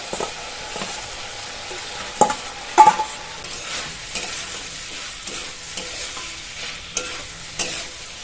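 Vegetables, shrimp and potato stir-fried in a pan with oil and spices, a steady sizzle broken by sharp scraping clanks of the spatula against the pan, close and fairly loud.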